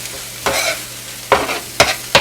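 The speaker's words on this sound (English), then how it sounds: "Forgot about my carrots. I'm going to stir those in real quick." Carrots being stirred into a sizzling chicken and vegetable stir fry, with a few distinct scraping stir strokes over a steady frying hiss, close and moderately loud, no voices.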